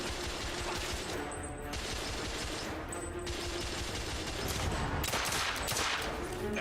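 Steady stream of gunshots from a firefight in The Order: 1886, set in Victorian London, fairly quiet and continuous with rapid repeated cracks and no talk.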